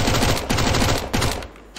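Fast automatic rifle fire in CS:GO competitive play, two close loud bursts of rapid rattling shots, then a short pause and a faint final shot.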